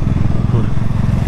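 A BMW motorcycle engine idling near at hand, a loud, steady low rumble that holds level through the short moment.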